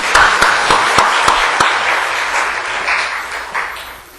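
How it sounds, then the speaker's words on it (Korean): Church congregation applause after a hymn of praise, opening with several sharp, distinct claps in quick succession that blend into a loud, full round of clapping, then gradually fading. "우리 박수 한번 하겠습니다."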